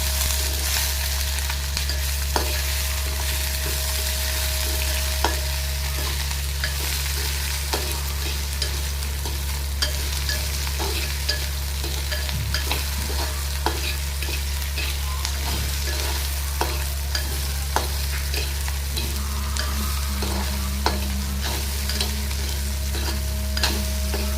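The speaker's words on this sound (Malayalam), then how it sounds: "അരിഞ്ഞ് വെച്ചേക്കുന്ന പച്ചമുളക് ഇട്ട് കൊടുക്കാം പച്ചമുളകും കൂടി ഒന്ന് മൂത്ത് വരണം" Chopped green chillies frying in oil for lemon pickle, a long steady sizzle with frequent clicks and scrapes from stirring over a constant low hum.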